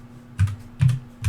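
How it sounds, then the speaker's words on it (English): Three distinct bursts of keystrokes on a computer keyboard clatter in quick clusters about every half second, close and fairly clear over a faint steady hum. "Sorry, typing in nonsense letters."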